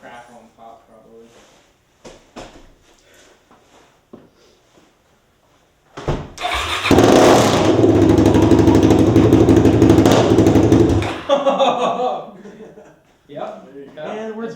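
A Suzuki DRZ400SM supermoto fitted with an MRD SSW exhaust starts up and runs loudly for about five seconds, a rough, blaring single-cylinder roar that then cuts out, with people talking before and after.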